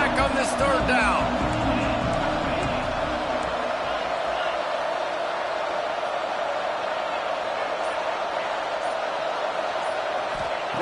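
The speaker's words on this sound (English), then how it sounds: "The crowd electric trying to help Tech on this third down." Stadium crowd at a college football game with Texas Tech on offense, a loud sustained roar that stays steady throughout, with a brief burst of sharper cheering and whoops near the start.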